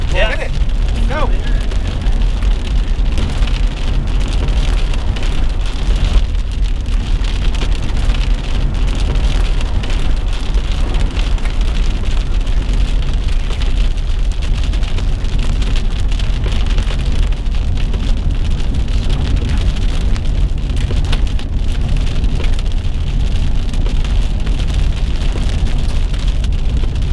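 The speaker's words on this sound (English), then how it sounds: "You got hail." Hail pelts down in a dense, loud, unbroken roar during a storm chase near a huge tornado, with a steady hard clatter over the whole stretch and voices buried beneath it.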